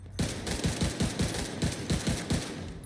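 Light machine gun fire in The Division 2, a steady run of about ten evenly spaced shots, loud and close, with no talk.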